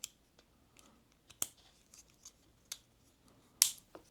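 Sharp snips from the scissors of a ROXON FLEX multitool, a string of quick, crisp cuts at irregular intervals with one louder closing snap near the end, close up and quiet with no talking.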